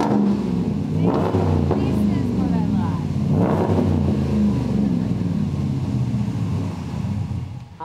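A RAM 1500 pickup truck's engine revs hard twice, surging and falling back, then settles into a deep, throaty rumble through a stainless steel Borla exhaust that fades slightly at the end.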